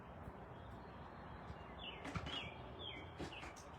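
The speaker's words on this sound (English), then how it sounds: "Don't those birds sound awesome?" Birds chirp outdoors with a few brief, bright calls rising over steady low background noise, soft and somewhat distant.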